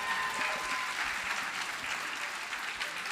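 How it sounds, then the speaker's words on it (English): An audience at a CreativeMornings New York event claps for Joyce as she is called up to the stage, a steady, even round of applause throughout with no voices standing out. "Give Joyce a round of applause."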